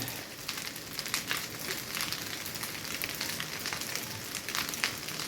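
Olive oil sizzling in a pan while leftover rice is being sautéed, a steady close crackle of frying with no talk.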